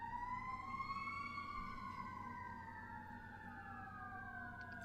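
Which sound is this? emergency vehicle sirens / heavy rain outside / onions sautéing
emergency vehicle sirens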